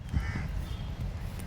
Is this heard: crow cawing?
yes